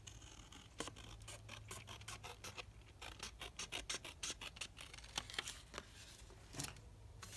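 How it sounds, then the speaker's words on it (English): Scissors snip through paper while cutting a freehand heart shape, a close series of quick, soft crisp snips in uneven bursts with brief pauses. "it's so hard to cut a perfect heart freehand."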